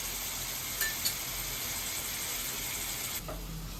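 Masala paste fries in oil for a paneer curry and gives a constant soft sizzle and hiss. A couple of faint clinks sound near the start, and a brief stirring sound comes near the end.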